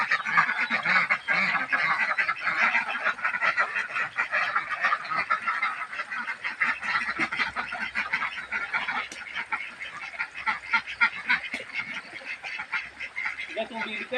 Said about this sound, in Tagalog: yung bibi guys, ang bilis magkaon guys